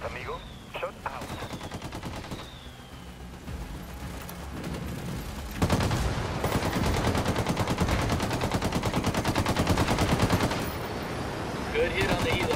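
Automatic gunfire rattles through a Ghost Recon Wildlands battle: scattered shots and blasts build into loud, sustained machine-gun bursts with booming hits, and brief game voices come through in places.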